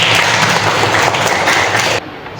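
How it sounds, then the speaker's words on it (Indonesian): Students in a classroom lesson applaud together in a dense, steady burst of clapping that fills the room and then cuts off abruptly near the end. "tepuk tangan untuk kita semua"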